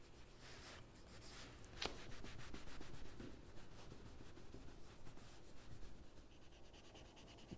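Chalk pencil shading on paper while sketching a painting study makes a faint, steady scratchy rubbing, with short repeated strokes and a few brief taps, close and quiet throughout.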